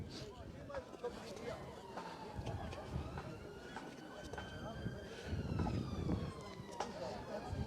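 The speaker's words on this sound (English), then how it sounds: "Ambulance has to get through." A wailing ambulance siren rises and falls continuously at moderate distance, mixed with street noise and nearby voices talking at a march in Ayr.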